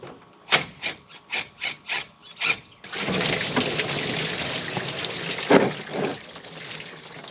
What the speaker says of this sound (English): But we are draining. Now, this coolant is very dirty and brown